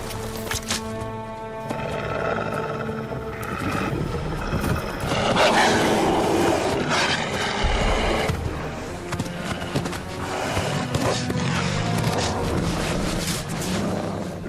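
Wolf and brown bear fighting over a wild boar carcass in the Slovenian karst: snarling, growls and roars trade back and forth in a dense, agitated struggle, with low thumps and scuffling underneath.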